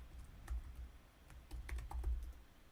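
Fingers typing a name on a computer keyboard while filling in an online form, giving quiet, irregular key clicks in two short bursts with a brief pause between them.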